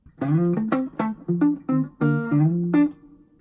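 A quick run of electric guitar double stops in sixths, about ten short plucked two-note chords in a brisk rhythm, played alone and clearly.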